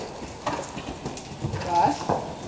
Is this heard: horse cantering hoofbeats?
yes